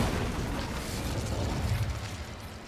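Incendio fire spell cast in the Hogwarts Legacy wizarding game, a fairly quiet, sustained whooshing burst of flame with a crackling, rumbling roar that holds steady for nearly three seconds.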